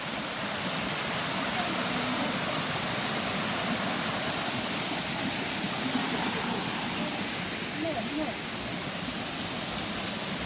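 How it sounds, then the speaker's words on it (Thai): Continuous broadband roar of falling water from a waterfall, steady and fairly loud, heard up close without pause. "น้ำตก"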